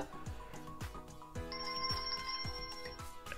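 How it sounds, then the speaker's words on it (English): A repeating electronic ringtone melody from a DT79 smartwatch, with regular beeping pulses and a sustained high tone, played alone at moderate volume. "You've got sounds, you've got different ringtones."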